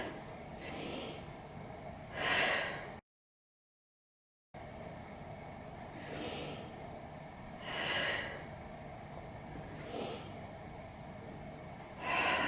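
Deep breaths taken in Pilates shell pose, sitting on the heels with arms stretched forward: a few slow, loud, close inhale-exhale whooshes spaced evenly apart, with a short silent gap between them and no talk.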